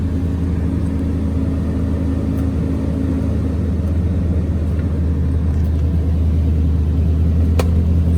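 Dodge Challenger SRT 392 V8 idling at a Copart auction yard, a steady deep low rumble held evenly throughout at close range, with no revving and no voices.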